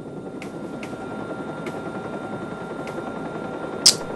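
A helicopter in the Watch Dogs video game gives a steady, continuous rotor drone throughout, with a few faint ticks and one brief sharp crack near the end.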